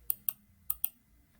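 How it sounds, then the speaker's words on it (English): Four crisp plastic clicks of arrow keys on a computer keyboard, spaced irregularly over a quiet room, close and fairly light with no talking. "By use of the arrow on my keyboard, I have to move around these words."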